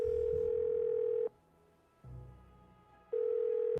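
A phone line rings while calling a friend in a Nancy Drew mystery game: a steady electronic tone plays loud and close, breaks off for a quiet pause, then returns.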